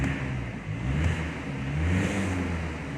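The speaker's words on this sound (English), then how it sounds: "Give it a little rev." The 2.0 TDI diesel engine of a 2019 VW Passat SE DSG estate, heard up close as a brief rev that swells, eases off and rises again over a low, steady diesel rumble.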